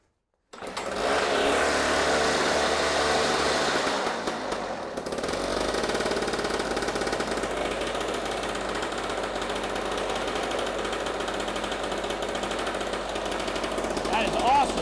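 An old John Deere snow thrower engine with an exhaust leak starts suddenly and keeps running with a loud, rapid knocking putter and a brief dip, while a person talks over it.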